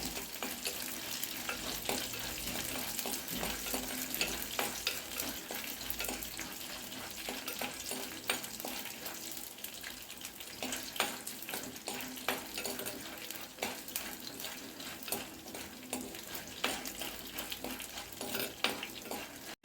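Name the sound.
frying in oil while making vathal kuzhambu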